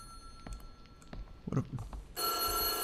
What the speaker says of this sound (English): Oh, that's the phone ringing.